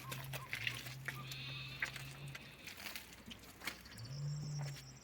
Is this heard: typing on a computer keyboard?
no